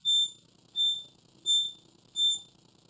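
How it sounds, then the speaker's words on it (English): A reversing alarm on a ride-on smart luggage electric scooter beeps four times at an even, slow pace, each high-pitched tone clear and fairly near, with a faint low hum underneath. "the alarm will have the noises to announce people behind you"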